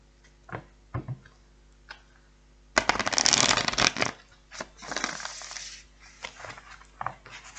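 Tarot cards being shuffled in a burst of riffling and rustling, preceded and followed by scattered taps and soft handling sounds.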